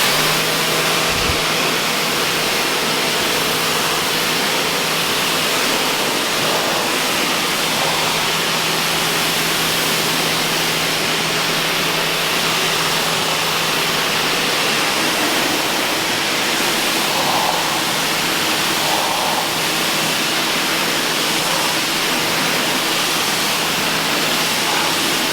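Water is sprayed in a continuous, loud, hissing stream onto ceramic-coated car panels, an unbroken rushing spray lasting the whole stretch with no talking.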